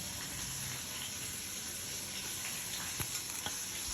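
Chicken frying in a pan at home gives a steady broadband sizzle with a few sharp crackles and pops near the end, close and continuous with no talking.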